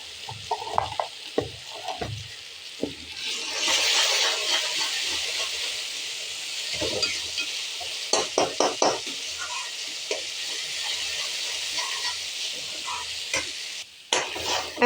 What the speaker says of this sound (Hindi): और इसको खूब भूनते हैं